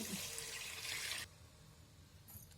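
Water pours into a pan of fish curry for a little over a second, a brief rushing splash that stops abruptly, followed by a faint quiet kitchen background.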